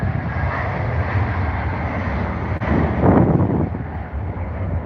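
Eurowings airliner at London Heathrow airport, a continuous broad roar of jet engines swelling slightly as it passes, with wind buffeting the microphone.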